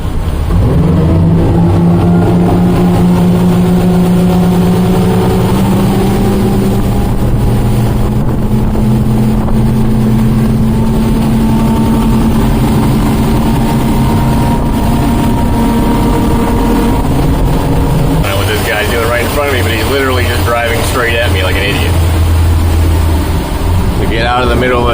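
A Contender boat with Yamaha outboards accelerating hard at full throttle, a loud steady engine drone climbing in pitch under wind noise, then changing tone near the end as water rushes past, with talk over it.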